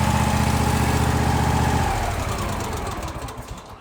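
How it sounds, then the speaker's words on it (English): Tractor engine running close by with a steady, throbbing low chug, then shutting off midway so the pulsing fades into a winding-down rumble and quiet. "started the engine up, it's running"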